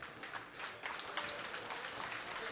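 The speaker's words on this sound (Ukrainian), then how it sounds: "Давайте ще окремо привітаємо оплесками наших чарівних дівчат." An audience claps steadily at a martial arts cup event, a continuous mass of applause at moderate, slightly distant level without speech on top.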